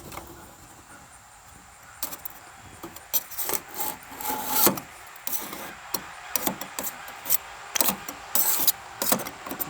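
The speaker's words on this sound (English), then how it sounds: "You take just a scraper like this, and you do like this, and it comes off." A metal scraper rasps over the basket hanger of a Frymaster fryer, giving irregular bursts of close scraping strokes that grow denser and louder midway, with short pauses between strokes and no talking.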